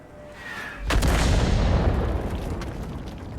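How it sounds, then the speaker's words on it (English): A heavy artillery shell in World of Tanks slams into a house with a sudden loud boom, followed by a long rumbling crash of debris that slowly fades. "Now let's see if the enemy artillery is smart enough to take another shot to reset."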